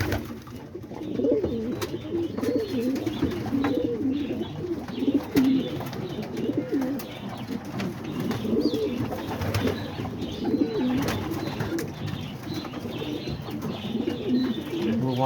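Homing pigeons coo steadily and close by in a loft, their low, throaty calls overlapping and rolling on without pause for the whole stretch, with faint rustling and scattered chirps underneath.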